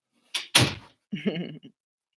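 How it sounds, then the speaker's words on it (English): A door closes indoors: a brief creak and then a solid thud, followed by a softer rattling settle as it latches, close and alone with no talk. "close the door so I don't get the TV back up"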